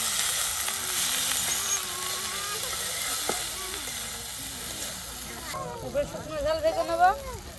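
Spices, coriander leaves and other ingredients frying in a pan with a steady, close sizzling hiss throughout while someone talks over it.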